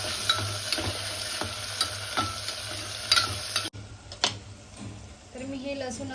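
Tomatoes being stirred into masoor pulav in a frying pan, a steady sizzle with repeated scraping strokes of the spoon, close and moderately loud, with a low hum underneath.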